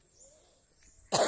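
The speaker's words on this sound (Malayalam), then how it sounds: "ചുമയാണ്," A single sharp cough from someone suffering a cough, cold and fever bursts out loudly at the very end, after a second of near-quiet room tone.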